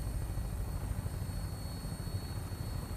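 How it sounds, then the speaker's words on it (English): A helicopter in the video game Fallout 4 drones with a steady, quiet, continuous rotor and engine hum, with no voices over it. "Good thing we have this helicopter."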